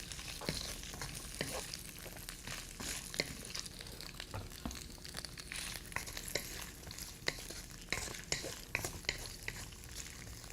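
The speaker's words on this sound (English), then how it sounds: "So just 15 to 30 seconds for stir fry should be good." Vegetables with carrots stir-frying in a pan for a Buddha bowl, a continuous faint sizzle broken by frequent sharp spatula scrapes and clicks, with no talk.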